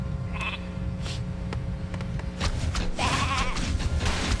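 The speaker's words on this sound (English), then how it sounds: "yeah, it's a little sheep." A small sheep bleats in a Warcraft III match, heard amid battle effects and a steady game soundscape, with louder clashing and spell noises building toward the end.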